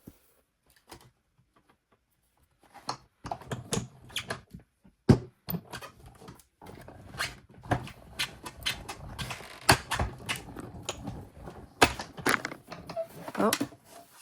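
A craft die-cutting machine feeds a taped cardboard card front through its rollers, giving a run of close mechanical clicks, clunks and grinding after a quiet start, with a voice talking over it.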